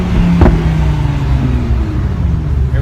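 A 2017 Lamborghini Huracan Spyder LP610-4 gives a deep, loud engine rumble and a brief sharp burble on a downshift, heard from inside the car at close range.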